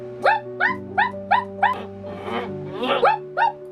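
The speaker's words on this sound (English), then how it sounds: "this dog next door, I can't stand it. It's always barking." A neighbouring dog barks in a rapid series of about ten sharp, fairly close yips and barks, ringing out over a steady electrical hum.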